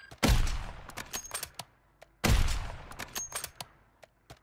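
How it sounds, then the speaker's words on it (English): Sniper gunfire in the shooter game Warzone: two loud, sharp reports about two seconds apart, each followed by a scatter of smaller distant shots and echoing cracks fading away, with no voices. "Is somebody sniping behind?"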